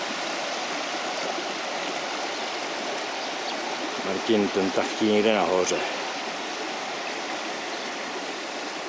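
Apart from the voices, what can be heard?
stream flowing in a valley in Cyprus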